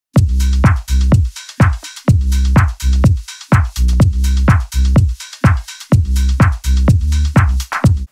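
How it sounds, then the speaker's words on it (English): Chunky, distorted synth bass from the Serum preset ELS Bass Chunks plays a rhythmic line of loud, punchy sustained notes, each cut off sharply by short gaps, with no voice over it. "The preset that I'm using is called ELS Bass Chunks"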